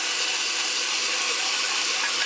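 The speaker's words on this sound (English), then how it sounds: "Turn on the blender." A kitchen blender running for a homemade chicken seasoning gives a steady, dense, high-pitched whirring hiss throughout, loud and unbroken.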